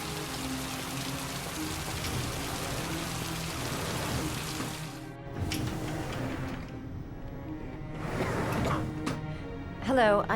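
Rain patters and hisses in the video game Heavy Rain, steady for the first half, then cut off and returning in separate stretches, with a short sharper sound at the end and no clear talk.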